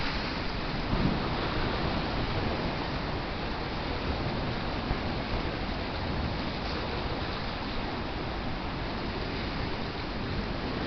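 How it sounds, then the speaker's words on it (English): Receding surf water rolling back over small cobble stones along a rocky tide-pool shoreline at Cabrillo National Monument, a constant close hiss and rush of trickling water without pauses. "the receding water makes as it rolls over the cobbles, these little stones"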